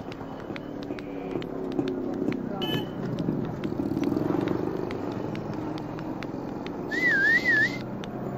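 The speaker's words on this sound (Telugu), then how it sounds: "ఏంటమ్మా విజిల్ మంచి సౌండ్ మీద వస్తున్నాయి?" Loud, warbling whistles from people on a street, one rising-and-falling call standing out near the end over faint traffic noise and scattered clicks.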